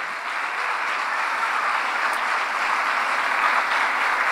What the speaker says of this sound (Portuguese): vamos aplaudir o Senhor Jesus para ver da pastora também